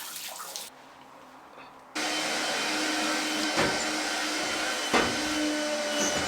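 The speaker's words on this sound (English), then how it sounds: "I'm just going to rinse everything off" Water rinses down a freshly deep-cleaned shower, a loud, steady, close spray that starts after a brief quieter pause and runs to the end.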